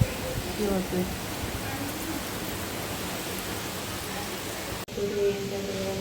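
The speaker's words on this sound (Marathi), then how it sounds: "इतका जोरात पाऊस आला म्हणूनच वाजत होत बघा" Heavy rain pours down at a friend's house, a dense, loud, steady wash of noise, briefly cut near the end before resuming with faint voices audible beneath it.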